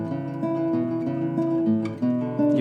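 Classical guitar playing a short passage from Barrios' La Catedral, plucked arpeggiated notes with a slightly broken legato, close and clear with no voices.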